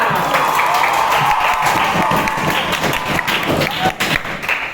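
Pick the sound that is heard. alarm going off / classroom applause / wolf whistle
classroom applause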